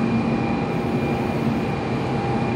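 A Nozomi Shinkansen series N700 train from Tokyo pulls into a station platform, a steady, sustained rumble with a faint hum and a thin tonal whine, and no voices.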